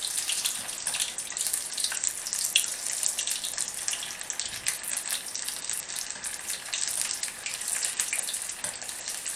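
Onions deep frying in oil, a dense, steady hiss and crackle of bubbling fat that continues without a break, close and fairly loud with no talk.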